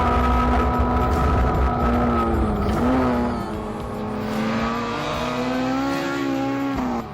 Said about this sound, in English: The Japcom Honda was singing all the way around the lap